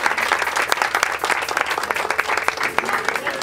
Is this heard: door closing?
no